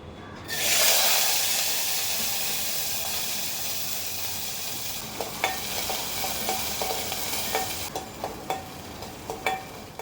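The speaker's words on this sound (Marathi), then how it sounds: "सो हे आपल्याला छान फ्राय करून घ्यायचं" Green peas hit hot oil with a sudden loud sizzle that settles into a steady hiss, joined later by scattered clicks of stirring in the pan.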